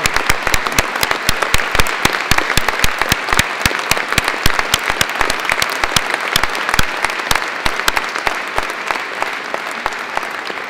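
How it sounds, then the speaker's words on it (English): Audience members at a Birmingham City University graduation ceremony keep clapping for an honorary degree recipient, a crisp, continuous patter of individual hand claps, fairly loud and close, with no voices over it. "Enjoy the applause."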